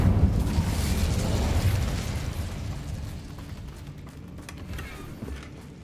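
A fire spell cast in the Hogwarts Legacy video game bursts out as a loud, rumbling whoosh with a booming low end, then fades slowly over several seconds.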